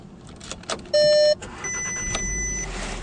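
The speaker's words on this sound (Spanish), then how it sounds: "El vehículo enciende correctamente" A 2016 SEAT Toledo starting up: a few clicks and a steady electronic chime tone, then the engine catches and settles into a low idle hum with a thin whine, fairly close and alone.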